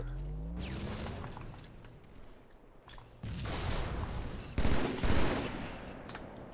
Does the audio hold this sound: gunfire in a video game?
yes